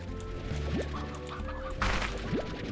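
Chickens clucking in the video game Slime Rancher, several short clucks and squawks close by over a steady ambient game hum, with a brief brighter burst partway through.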